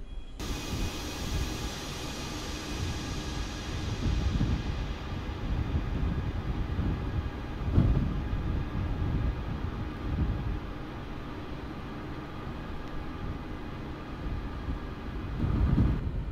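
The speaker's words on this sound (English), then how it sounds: "While taxiing to the runway" An airliner taxis toward the runway, a steady broad engine rumble and whine that stays close and fairly even throughout, with a few swells and no voices.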